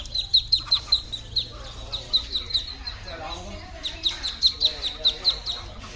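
Ducklings peep rapidly in repeated high chirps at close range, with a mother duck nearby, outdoors at a Lowe's store; a person speaks intermittently over the steady peeping.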